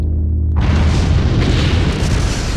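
A shotgun blast in the video game Clock Tower 2 erupts as a loud, deep boom that fills the clip and rolls on as a sustained rumble.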